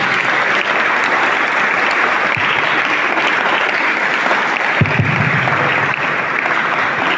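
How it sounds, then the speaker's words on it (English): A large audience at a campus debate competition claps loudly and continuously for the judges, a dense steady wash of applause filling the whole stretch without a break. "give a huge round of applause for our judges first"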